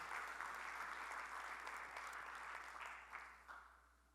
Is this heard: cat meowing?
no